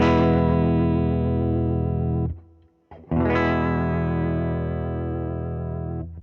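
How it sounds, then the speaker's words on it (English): Electric guitar through an Origin Effects MAGMA57 vibe and drive pedal on its EQ1 setting: a bright, driven chord rings out with throbbing vibrato, cuts off briefly, then a second sustained chord swells and holds. "EQ1 is great for brighter sounding amps"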